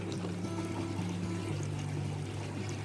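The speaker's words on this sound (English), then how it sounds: "So that's how it drains out from the grow beds." Water siphoning and draining out of a backyard DIY aquaponics grow bed: a steady, close pouring and trickling rush of water with a low gurgling hum underneath, continuous throughout.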